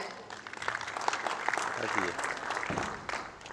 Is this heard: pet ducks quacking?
no